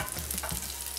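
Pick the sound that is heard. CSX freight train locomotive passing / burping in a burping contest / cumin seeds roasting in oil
cumin seeds roasting in oil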